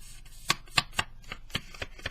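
A sheet of Nina bright white cardstock paper is flicked again and again, giving a run of sharp, dry snaps at a quick, uneven pace, close and clear with no talking.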